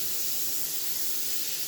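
Cooking oil, virgin olive oil, sprayed from a can onto a baking bowl in a kitchen: a steady, close, continuous hiss of spray lasting under two seconds, alone without talk.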